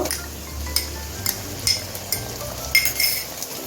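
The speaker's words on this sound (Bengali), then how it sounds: "এখন আমি পেঁয়াজ পেস্টটা দিয়ে দেব।" Onion paste goes into a pan of lightly browned fried onions, with soft spoon clinks and scrapes against the pan at close range over a low hum, and no one speaking.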